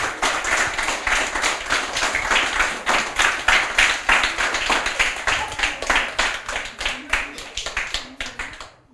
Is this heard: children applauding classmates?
yes